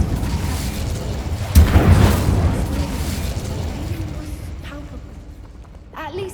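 Incendio fire spell in Hogwarts Legacy erupts in a sudden heavy fiery boom that rumbles and decays over a few seconds, amid game ambience with some voice sounds.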